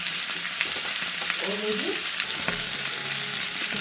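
Onions frying in a pan, a steady close sizzle with light stirring scrapes and no voices.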